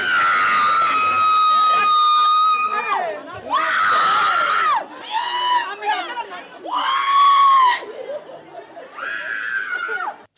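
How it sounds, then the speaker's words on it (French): People scream and wail in distress during a raid seizing counterfeit medicines at Adjamé-Roxy market, several loud, close, sustained cries in bursts, with overlapping voices and commotion between them. "Des hurlements de dépit et de détresse déchirent le silence ambiant des lieux."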